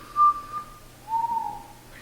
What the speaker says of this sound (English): you heard that whistling though